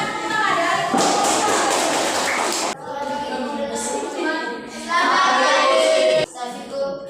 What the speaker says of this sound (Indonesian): Kita sambut dengan tepuk tangan dari kelompok